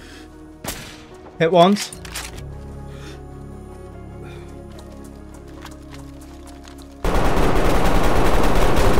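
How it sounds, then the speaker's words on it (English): Gunfire in the DayZ survival game, a few sharp shots and a quick burst early on, followed by a steady loud rushing noise near the end, with players talking briefly over it. "I'm getting shot at."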